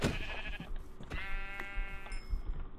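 A Minecraft sheep bleats in the game world, a loud wavering bleat over constant background noise with no talk.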